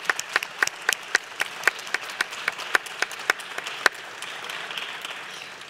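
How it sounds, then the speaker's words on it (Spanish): An audience at a culture-and-health alliance session on care and hospitality projects claps. A few sharp, separate hand claps ring out close by at first, then they blend into a softer, steady wash of applause. "seguimos el aplauso"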